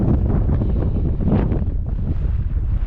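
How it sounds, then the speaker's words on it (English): Steady, loud wind buffets the microphone on a foggy, breezy hillside hike near Ivybridge, a continuous rushing roar with no voices. "Fog is starting to clear a bit, but it's still quite breezy."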